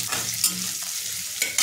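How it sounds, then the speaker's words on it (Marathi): Chana dal and moong dal sizzle in hot oil as they are sautéed and stirred, a steady close frying hiss broken by a few scraping strokes of the spoon, with no talking. "चणा डाळ आणि मूग डाळ दोन मिनिटांची तेलावरती परतून घेऊया।"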